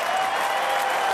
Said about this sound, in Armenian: ես ուզում եմ լսել շատ բարձր ծափարություններ